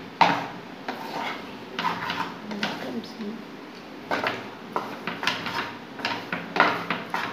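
Homemade chowmein is stirred and mixed with masala in a pan over low heat, giving close, moderately quiet scrapes and clinks of a utensil in a steady, repeating rhythm.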